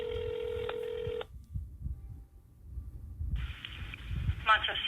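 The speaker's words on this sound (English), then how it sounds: "Just listen to the phone ringing in the background" A telephone rings in the background of a call to a Colorado RV resort campground: a steady electronic ring tone lasting over a second, then a pause and another ring beginning, with soft low rumbling between.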